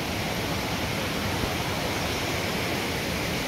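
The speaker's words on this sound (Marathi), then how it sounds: "या असे धबधबे बघायला मजा येते" A hidden waterfall near Khopoli pours white water in a steady, dense roar of rushing water, close and constant, with no voices.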